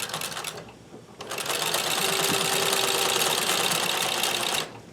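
A Singer Monogrammer sewing machine stitches a large letter, whirring in a loud, steady, rapid mechanical run that starts after a short pause and then cuts off.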